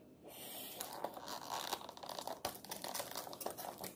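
Scissors cut open a sealed cardboard box holding a Gamo PR-776 .177 pellet airgun revolver, with steady close crinkling, scraping and snipping over a few seconds and no voices.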